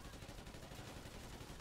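Rapid, continuous automatic gunfire from the video game Call of Duty: Ghosts Extinction, a dense, steady barrage of shots at even loudness throughout with no gaps.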